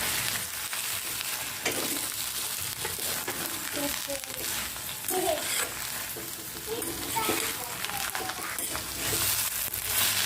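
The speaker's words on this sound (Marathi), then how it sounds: "हे आता व्यवस्थित मिक्स करून घ्यायचं आहे" A spiced vegetable filling with coriander and salt is stirred in a hot pan for dosa, a continuous sizzle with soft scraping strokes running close and steady throughout.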